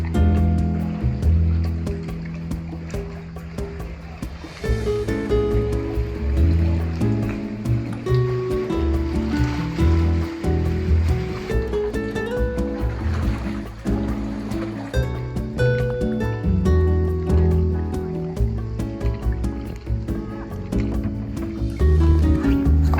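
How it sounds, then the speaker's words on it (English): A kayak paddled on the sea off Dubrovnik, Croatia, with a steady wash of moving water and splashy surges close by, under intermittent background music. "We've got a little more kayaking to do."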